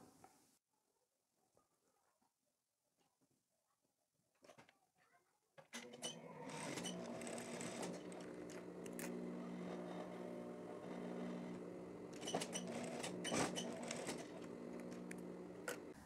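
A sewing machine runs steadily, stitching a straight seam to close a shirt collar on a women's plaid shirt, after a few seconds of quiet handling sounds; loud, continuous motor whir with rhythmic needle clatter.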